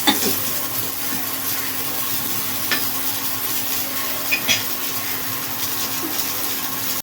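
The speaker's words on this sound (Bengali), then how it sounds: "তো চলো ভালো করে ফুলকপিগুলোকে ভেজে নেওয়া যাক।" Cauliflower florets frying in a pan give a steady oily sizzle throughout, broken by a few sharp clinks and scrapes as they are stirred.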